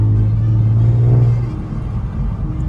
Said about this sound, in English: you can hear the pops and the bangs from the exhaust.